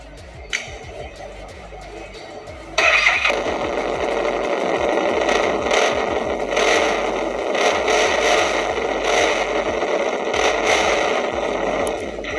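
A Harley-Davidson motorcycle fitted with a Vance & Hines Performance Competition Series exhaust: after a few quiet seconds the engine fires and settles into a loud, deep, throbbing run with repeated rev swells.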